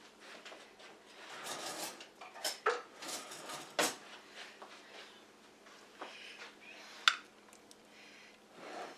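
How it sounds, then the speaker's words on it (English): A spoon clinks and dishes clatter in a home kitchen while one-pan pork chops with potatoes are prepared, a quiet scatter of irregular knocks and scrapes with a couple of sharper metallic taps. "Let me get a spoon here."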